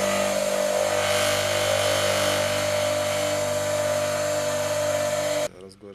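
Bench grinder running steadily with a vibrating faceplate and thin stamped washer, a loud continuous motor whine with buzzing harmonics that cuts off abruptly near the end.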